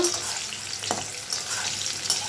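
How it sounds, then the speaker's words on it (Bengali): Spine gourd pieces sizzle softly in oil with a brief clink or two from a utensil, close and steady over a couple of seconds. "কাঁকরোল ভাজা হয়ে গেছে এবার আমি তুলে নেব"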